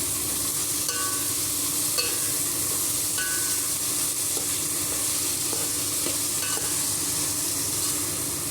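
Tomatoes added to a frying pan for kichidi, sizzling steadily and loudly in hot oil with mint, while a utensil stirs and scrapes the pan in repeated strokes.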